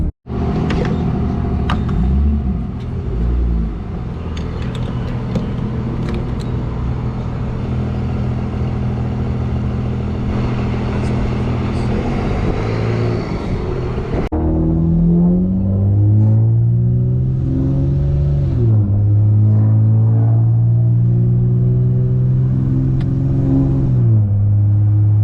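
Boosted Acura TL Type-S engine idling with a deep rumble, then revving hard at wide open throttle, pitch climbing and falling through several loud, close pulls.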